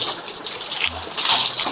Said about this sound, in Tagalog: Nagpapaligo po ng baboy.